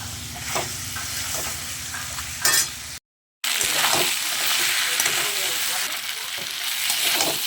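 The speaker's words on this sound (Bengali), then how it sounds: "আর এটা তেলে আমি ভালো করে ভেজে নেব চিংড়ি মাছটা" Prawns fry in hot oil for a jackfruit and prawn curry, giving a loud continuous sizzle and crackle with a short dropout partway through and a voice briefly over it at the start.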